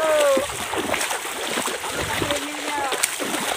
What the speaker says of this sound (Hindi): ए पानी मत फेंको, पानी मत फेंको।